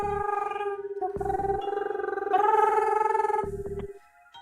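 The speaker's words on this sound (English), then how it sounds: "He got out his cell phone and dialed up Kajiwara." A phone ringtone in the game 428: Shibuya Scramble plays while a call is placed on a cell phone: a steady electronic ringing tone that pulses in a repeating pattern, loud and close, with no talking.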